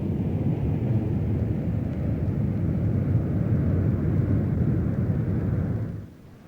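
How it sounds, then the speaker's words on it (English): A Boeing 757 jet airliner during an abusive takeoff test gives a steady, heavy roar of jet engines, loud and continuous, then fades away near the end. "While certainly not the normal takeoff, the 757 still handled safely"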